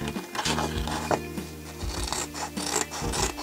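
Scissors snip and rasp through paper while cutting out a flower petal for a 3D paper picture, a close series of irregular rubbing cuts with no talk.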